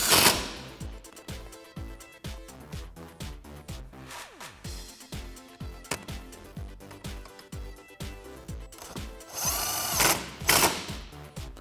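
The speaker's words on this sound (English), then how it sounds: "And use a 6mm Allen socket to tighten these bolts." A power tool with a 6mm Allen socket tightens the seat bracket bolts on a Mustang racing seat. Repeated short whirring and ratcheting bursts come up close, with a louder high-pitched burst near the end.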